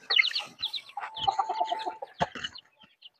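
Chickens and chicks clucking and peeping close by while feeding, a busy cluster of short clucks, chirps and squawks in quick irregular bursts.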